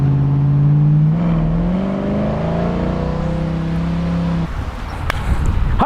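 A 1969 Chevrolet Camaro RS/SS convertible with a 350ci V8 and automatic transmission pulls away in first gear, its engine note rising loud and close as it accelerates, then easing off near the end.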